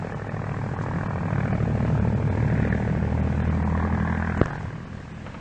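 A vintage airplane engine drones steadily in flight with a loud, continuous propeller hum, swelling slightly midway. A brief sharp knock comes near the end.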